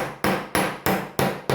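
Hammer held flat striking a metal sheet during a crafts class, five sharp ringing blows at an even, fairly quick rhythm, close and loud with no talk.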